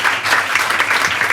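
A podcast audience breaks into applause, a dense, steady clapping that fills the whole short moment without any talk over it.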